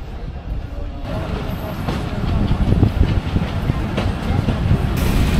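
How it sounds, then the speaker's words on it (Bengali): The Dhalarchar Express pulls out of Lalitnagar station with a loud rising rumble and rhythmic clatter of wheels on rails, heard from aboard, with talk mixed in over the noise. "ছোট্ট 2 মিনিটের বিরতি শেষে আমাদের ট্রেন এই ললিতনগর স্টেশন থেকে ছেড়ে দিল"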